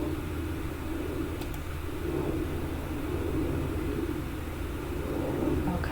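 An airplane passing overhead, heard as a faint, steady, distant low rumble that lasts the whole stretch.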